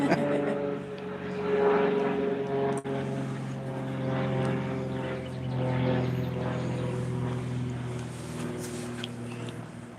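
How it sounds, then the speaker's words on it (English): Propeller airplane flying overhead outdoors, a steady droning engine hum that swells and fades gently across the whole stretch, fairly close and continuous. "Sorry for the airplane that's been coming up."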